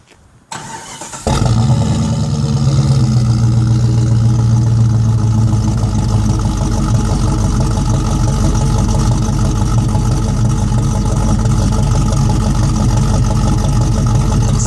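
A 1998 Jeep Grand Cherokee with a 370 stroker engine and a 218 cam cranks briefly, then catches and settles into a loud, steady, slightly lumpy idle that continues alone.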